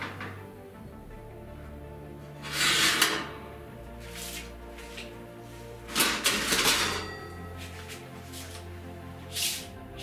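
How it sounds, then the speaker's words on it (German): Currywurst sausages and fries going into a home oven: a few separate bursts of metallic clatter and knocking from tray and door, separated by quiet kitchen background. "Und ich tue die jetzt in den Backofen rein"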